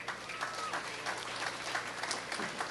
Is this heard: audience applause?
yes